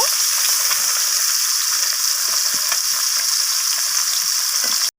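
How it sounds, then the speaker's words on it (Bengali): Amudi fish frying in hot oil until reddish: a loud, dense, steady sizzle with occasional pops and spatters, close up and uninterrupted until it cuts off abruptly at the end. "এগুলোকেও আমি লালচে করে একইভাবে ভেজে নেব"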